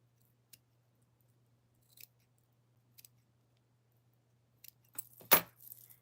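Scissors cut through yarn up close: a few faint isolated ticks over a low steady hum, followed by a single crisp snip and some soft handling noise.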